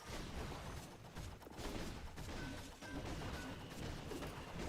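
A builder hut collapses in a Clash of Clans-style base attack, a dense rumbling crash and battle din of impacts and debris that carries on steadily throughout, loud and busy with no voices.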